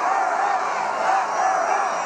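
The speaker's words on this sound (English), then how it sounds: "The crowd launched into chants of lock her up." Crowd at a Trump rally chanting "lock her up", a dense, continuous roar of many voices, loud and sustained throughout without pause.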